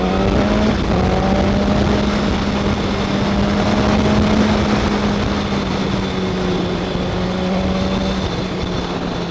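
A 2016 BMW S1000R motorcycle engine hums steadily in fourth gear at about 20 mph, a smooth even drone with no surging, loud and close throughout.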